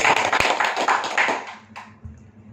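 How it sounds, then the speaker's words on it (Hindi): A training-session audience claps loudly on cue, a burst of sharp, close hand claps that thins out and fades after about a second and a half. "जोरदार तालियां हो जाए"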